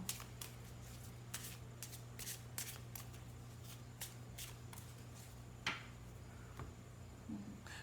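Tarot cards are shuffled and drawn by hand, a quiet run of crisp riffling flicks and soft slaps in an irregular rhythm, with one louder snap near the end over a faint steady hum.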